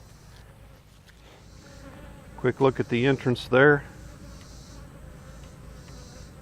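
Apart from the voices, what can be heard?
honey bees flying at hive entrance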